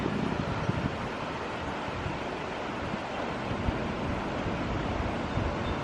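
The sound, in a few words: flooded creek water rushing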